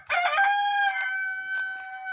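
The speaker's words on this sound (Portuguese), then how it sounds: "Galinho feliz, porque parou de chover." Rooster crows once, a clear, loud cock-a-doodle-doo outdoors on a pitaya farm after rain, with no talk over it.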